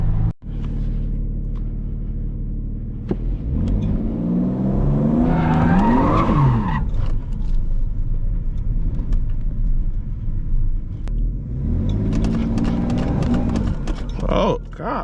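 A tuned Porsche 992 Turbo S–rival car launches from a standstill, engine roaring loudly as tyres squeal and skid, followed by a second burst of engine and tyre noise later; voices are heard over it.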